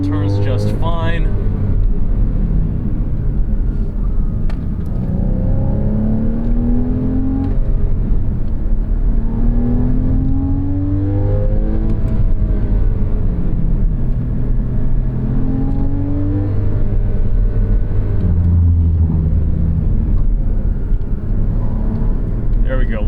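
A black Porsche Cayman 981 on Michelin PS 4S tyres drives hard through twisty roads, its engine droning and rising and falling in pitch through the gears, loud and steady from inside the car.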